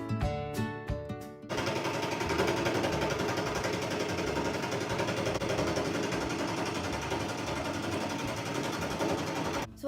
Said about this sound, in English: So I just learned how to use the bandsaw, so my cuts are gonna be iffy and pretty bad